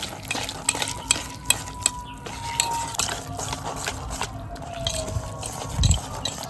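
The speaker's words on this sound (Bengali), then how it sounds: "এখন এর মধ্যে একটু অল্প অল্প করে দুধ দিয়ে মিক্স করব।" Semolina and mango cake batter is stirred as milk is added, with close, irregular scraping and tapping of the spoon against the container, plus a few louder knocks.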